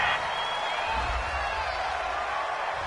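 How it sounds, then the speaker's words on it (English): Home football crowd roaring steadily after a pass interference call, a broad sustained wash of cheering and applause heard at a distance throughout. "This home crowd, they're happy with that call"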